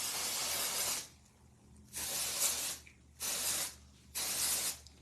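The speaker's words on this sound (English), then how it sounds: "Dry shampoo for the win." Dry shampoo hisses from an aerosol can in three separate bursts about a second each, close and fairly loud, with quiet pauses in between.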